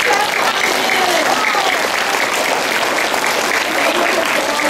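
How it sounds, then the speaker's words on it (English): An audience claps loudly and steadily for students being honored at a Student of the Month award ceremony, a dense, continuous ovation filling the whole stretch. "Let's clap for them."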